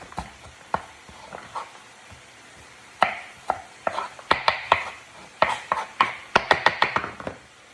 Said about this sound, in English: So you'll be careful while using a sharp knife like mine, so that you don't cut your hands